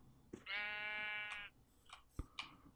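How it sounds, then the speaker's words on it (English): A Minecraft sheep gives one clear, steady bleat lasting about a second, followed by scattered clicks and small game sounds. "I might kill this sheep."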